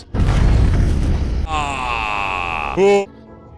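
An explosion in GTA 5 with a Dark Sonic mod opens as a loud, broad rumbling blast lasting over a second. A wavering synthetic ringing tone follows, then a short, bright harmonic note before it cuts away.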